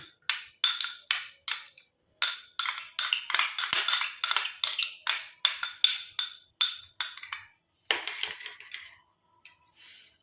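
A steel (silver) bowl handled in the kitchen gives a rapid series of close, bright metallic clinks and scrapes, irregular but nearly continuous, with short pauses and no talk.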